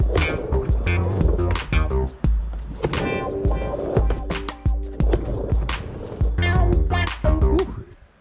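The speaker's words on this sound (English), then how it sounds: "I'm going to take a quick spin across my 3-foot backyard mini ramp" Skateboard wheels roll and rumble loudly across a 3-foot backyard mini ramp, with repeated sharp clacks and thuds as the board hits the coping and transitions in a steady back-and-forth rhythm, then fades to quiet at the end.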